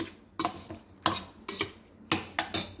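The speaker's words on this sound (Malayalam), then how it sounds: "ഒന്ന് ഇളക്കാം" A spoon stirring pumpkin curry sweetened with jaggery in a pot, six or seven distinct scraping clanks against the metal at uneven intervals, close and fairly soft, with quiet pauses between and no voices.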